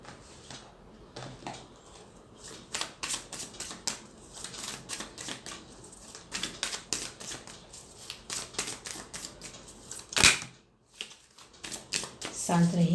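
Tarot cards being shuffled by hand in a rapid run of crisp riffling flicks, fairly close and steady, with a reader speaking Hindi over the card sounds throughout.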